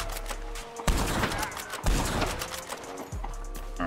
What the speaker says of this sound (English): Missed some easy shots there, but they still die.